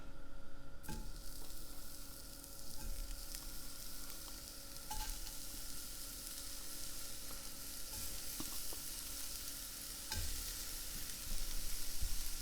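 Shrimp fry in a smoking-hot cast iron pan, a steady close sizzle with a few sharp pops and crackles as the pieces settle and get moved, no voices.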